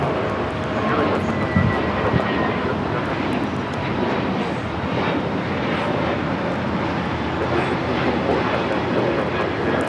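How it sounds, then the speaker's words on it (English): A JetBlue Airbus A321neo takes off at LAX bound for JFK, its jet engines giving a steady broadband roar that holds at full strength through the whole stretch, with no talk over it. "taking off to JFK on the A321 Neo"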